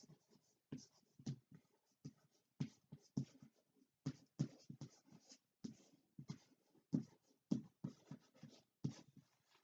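Pen writing on paper during a seventh-grade maths lesson, heard as a long run of short scratchy strokes in quick irregular bursts, close and fairly quiet, with no talking.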